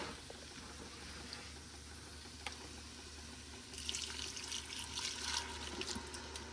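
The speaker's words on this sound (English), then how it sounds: "Let's throw some broth in there." Broth poured into a pot of beef stew, a faint trickling liquid stream under low background hum that grows a bit louder and splashier toward the end.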